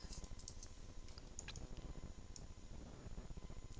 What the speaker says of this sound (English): And then the actual width of this is going to be 30 inches. So let's type in that.